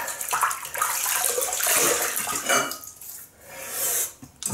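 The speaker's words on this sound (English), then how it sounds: "I'm just going to rinse the face." Water runs and splashes steadily while a face is rinsed after a shave with a 1930s Gillette long comb safety razor, with a tap flowing close by and brief pauses and rubbing toward the end.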